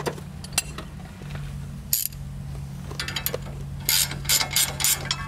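A ratchet wrench clicking as it turns a fastener on the front spindle of a 2003-or-later Chevy Express 3500 during a Weldtec lift install, with short bursts of rapid clicks and clinks close up over a low hum.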